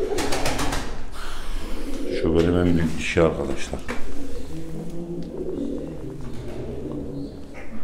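Mardin tumbler pigeons coo in low, throaty rolls close by in a loft while someone talks over them.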